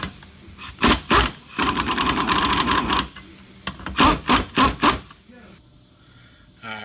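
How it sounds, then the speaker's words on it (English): An impact wrench works a rusty 17 mm nut on a 2014 Honda Civic Si in short feathered bursts: a sustained rattling hammer, a pause, then several quick choppy pulses, close and loud. "instead of wide open with the impact, I kind of feathered it a little bit"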